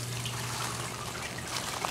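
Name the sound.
aquaponics overflow water trickling into sump tank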